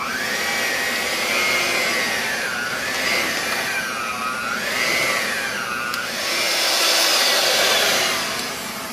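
An electric mixer whirs through soft-batch chocolate chip cookie dough, a close, continuous motor whine whose pitch rises and falls in slow waves as the beaters work the chips in.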